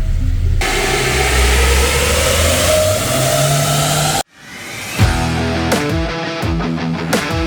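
An Omoda 5 car running on LPG roars loudly on a dynamometer, holding a steady high rev, then drops abruptly before climbing again through a series of stepped gear-like rises, all close and without talk.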